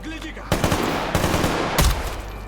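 Loud, close bursts of rapid gunfire from a free survival video game, with several volleys overlapping and crackling back to back across the short moment.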